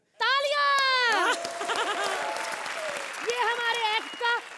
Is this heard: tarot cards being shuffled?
no